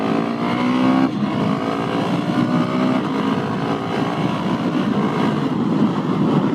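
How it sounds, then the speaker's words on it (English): A loud, raspy Husqvarna 701SM motorcycle engine revs close by, holding a throaty, high-pitched roar through an aftermarket Leo Vince Nero exhaust. "when I put the exhaust on, I didn't really go for any gains of power, because I just wanted to make some noise"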